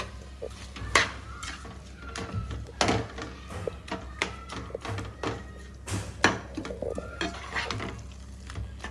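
A spoon stirs tomato chutney with rock salt in a pan, giving repeated scraping and knocking strokes at an irregular pace over a low sizzle, close and fairly quiet.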